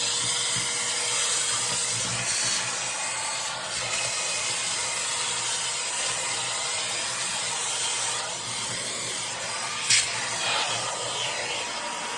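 A shop vacuum runs steadily with a loud, constant broadband whoosh and hiss, plus a faint clunk near the end.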